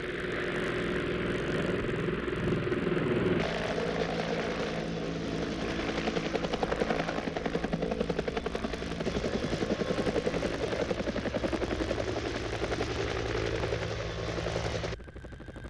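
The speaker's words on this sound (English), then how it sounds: "assisted by Iroquois helicopters" Iroquois military helicopters of the Australian forces thud steadily with a continuous rotor and engine drone, loud and close, running without pause for the whole stretch before cutting off abruptly at the end.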